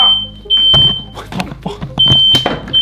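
A smoke or fire alarm sounds in sharp high beeps, two long tones near the start and end, over loud shouting voices and thumps in a room.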